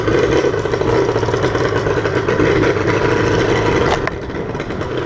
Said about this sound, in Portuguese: O som dessa ponteira Sarachu é maravilhoso.